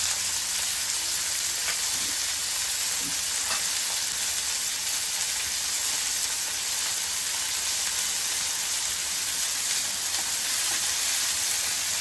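Bombil (Bombay duck) fish fry uncovered in a hot pan, giving a steady, dense sizzle and crackle that holds evenly throughout without any talking.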